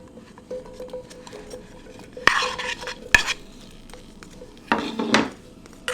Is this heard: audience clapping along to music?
no